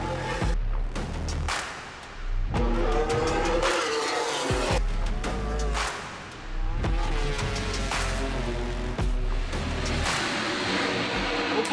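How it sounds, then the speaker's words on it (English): MotoGP motorcycles launching off the grid at a Le Mans sprint race start, a dense, loud pack of high-revving engines screaming and shifting, with pitch rising and dropping through gear changes, briefly dipping before surging again, sustained and overlapping. "Lights out, and we're racing in the sprint here in Le Mans."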